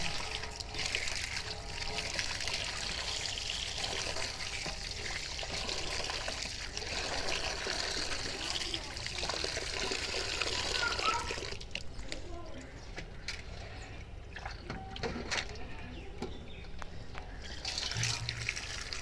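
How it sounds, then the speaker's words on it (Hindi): Running tap water trickles and splashes as tomatoes, onions, ginger and chilies are washed, a steady close stream with clatters and handling noise while someone talks over it. "टमाटर, प्याज, अदरक अदरक और मिर्चें अच्छे से धोएंगे इनको"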